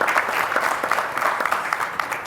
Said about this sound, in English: Let's give our panelists a big round of applause for sharing the social TV stuff with us.